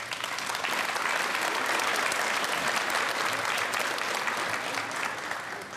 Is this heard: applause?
yes